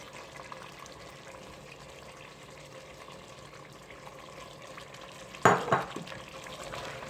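Meat with ginger paste and garlic stirs in a pan as turnip meat curry cooks, a quiet steady sizzle with scraping, then a sharp louder clatter of spoon against pan near the end.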